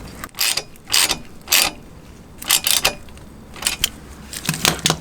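A ratchet tightening the bottom bolt of a Hepco & Becker engine guard on a Suzuki V-Strom 800 motorcycle gives close, loud bursts of rapid clicking, several runs separated by short pauses.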